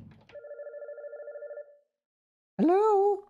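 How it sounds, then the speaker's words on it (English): A telephone rings in a horror video game, a steady trilling burst that stops, followed after a pause by a loud, bending electronic tone. "Is that a phone ringing?"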